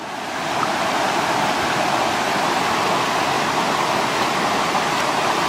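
A waterfall roars as a loud, steady, close rush of white water with no pauses, alone without speech.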